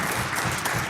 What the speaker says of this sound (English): I'd like to ask all of the members to give our guests a warm applause today.